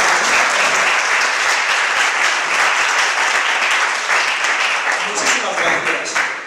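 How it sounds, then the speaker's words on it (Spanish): Loud audience applause for a hairdressing presenter, a thick continuous burst of clapping that thins slightly toward the end, with scattered voices mixed in. "¿Les damos un aplauso?"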